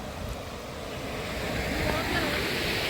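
Water gushing under pressure from a hose pipe, a steady broadband rushing hiss that builds slightly louder and holds, with no clear pauses.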